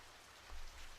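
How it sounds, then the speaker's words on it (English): Steady rain falling in the video game Radiant Historia, a soft continuous wash of drops with a slight swell midway, quiet and without voices. "It started to rain."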